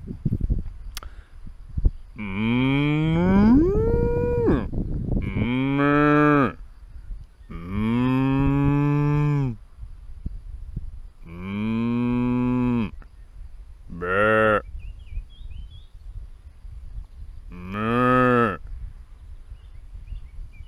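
Cows grazing in a pasture beside a permaculture vegetable garden give a series of loud, drawn-out moos, six or so long calls separated by pauses, close by with faint background rustle; a person outside the clip may be imitating them.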